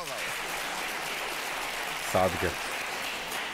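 Studio audience applause on the Polish game show Awantura o Kasę, a steady wash of clapping throughout, with a brief voice cutting in partway.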